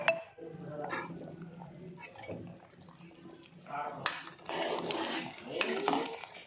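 A spoon stirring mulakkaya sambar in a pot, giving faint clinks and scrapes against the metal amid low kitchen background, in short irregular bursts.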